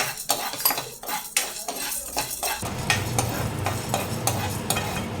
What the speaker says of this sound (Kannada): ಕಡಲೆಬೇಳೆ ಹುರ್ಕೊಳ್ಳೋಣ ಈಗ ಅದ್ರ ಜೊತೆಗೆ ಉದ್ದಿನಬೇಳೆ ಕೂಡ ಹಾಕಿ ಹುಡ್ಕೋತಿದ್ದೀನಿ